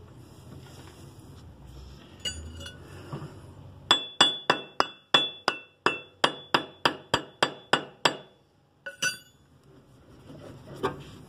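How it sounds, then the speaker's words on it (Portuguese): Metal hammer tapping the front wheel axle tip of a Vespa PX 200 scooter: a steady series of about a dozen sharp, ringing clinks in quick rhythm, close and clear, with a few softer knocks before and after. "Você bate na ponta do eixo, ó. Enquanto você bate, você puxa a roda pra frente."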